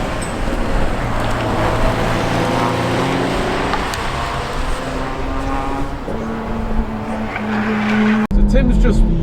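Stage 1 BMW M140i on the Bedford Autodrome track, driven steadily to warm its tyres: a continuous loud engine drone with shifting harmonics throughout, speech heard over it, and an abrupt cut near the end.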